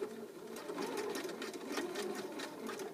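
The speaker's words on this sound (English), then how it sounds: "I'm going to put my elastic into my sewing machine like this" A sewing machine stitches zigzag lines on elastic, running in a steady, continuous hum with rapid needle ticks, close and unbroken with no talk.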